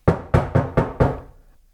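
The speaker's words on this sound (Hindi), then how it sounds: "अरे दरवाजा खोलो रत्ना।" Someone knocks on a door at night: five firm, close raps in a quick, slightly uneven run, each fading fast, then quiet.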